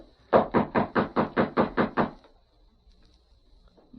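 Nine firm, evenly spaced knocks on a wooden door at night, close and loud, followed by quiet.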